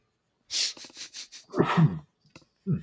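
A single person sneezes, with a short sharp intake of breath and quick sniffs before the sudden explosive burst, close and fairly quiet against a silent background.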